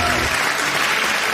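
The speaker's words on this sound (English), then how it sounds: "We're applauding one final time in this final day of quarterfinal matchups." An audience at a debate tournament quarterfinal on a radio show breaks into brief, loud, dense applause, a close wash of clapping with no talk over it.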